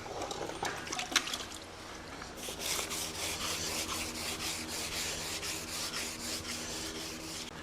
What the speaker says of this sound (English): So 400 grit on a foam block. I just have a bucket of water, dunk, sand, repeat.